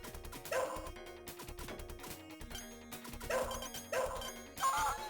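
A dog in the arcade game Shadow Dancer gives a few short, sharp barks and yips that cut through the busy game music and effects.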